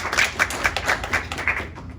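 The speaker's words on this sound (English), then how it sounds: "could please let's give one last final round of applause for Norman coming in" An audience claps in a steady patter of separate hand claps, fairly faint and thin, as though from a small gathering, trailing off after about two seconds.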